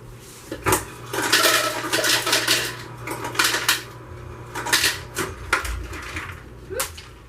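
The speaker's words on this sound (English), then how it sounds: "I'm going to add some ice cubes to it." Ice cubes clatter and rattle into a pot of cold water while canning sweet relish, a series of clinking, sloshing bursts of varied loudness, close by, with quiet gaps between handfuls.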